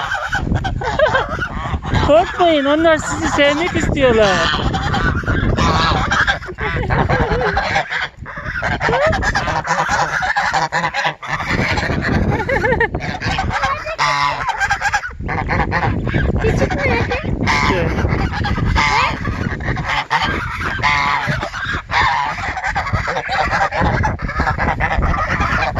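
Geese honk loudly and repeatedly at close range in a village yard, their harsh calls overlapping almost without pause, while a person speaks over the flock.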